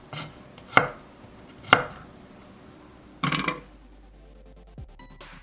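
Whole garlic cloves being chopped into small pieces with a knife on a cutting board: three separate crisp knife strikes, spaced apart, close and clear with no talking.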